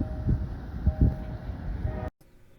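A heavy CSX freight train rumbles past at Plant City, a loud continuous low roll with faint tonal hum, close by, then cutting off abruptly near the end.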